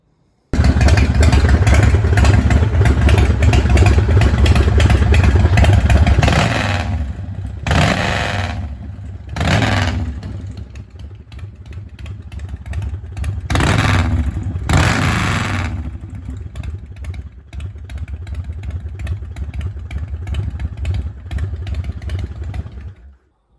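A motorcycle with its exhaust baffles removed runs loud and raw, a throaty idle with clattery pops broken by several sharp revs, close to the microphone, with no talking.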